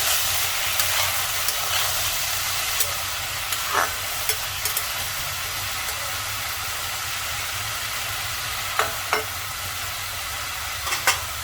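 Fenugreek leaves being stirred into potatoes frying in a pan for a dry aloo methi dish, heard as a steady sizzle with scattered soft scrapes and clicks of the spoon.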